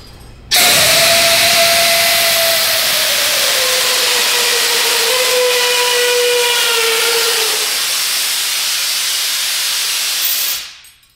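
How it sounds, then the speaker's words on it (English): A compressed carbon dioxide fire extinguisher thrusts a rocket tricycle, bursting into a loud, sustained roaring hiss with a wavering tone that slowly drops in pitch for about ten seconds before cutting off abruptly. "compressed carbon dioxide is going to leave as a gas. Now, that's gonna create thrust."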